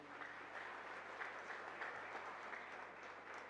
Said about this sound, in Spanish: Fuerte aplauso entonces.